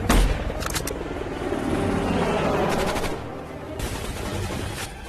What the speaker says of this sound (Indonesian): sebuah heli datang lalu tiba-tiba kemudian menghujani mereka dengan tembakan